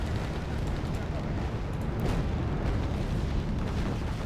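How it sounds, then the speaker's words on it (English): Cluster bomb explosions in the war strategy game Wargame: Airland Battle, a continuous heavy rumbling barrage of booms with a sharper burst partway through, loud and dense. "I'm just going to keep cluster bombing them"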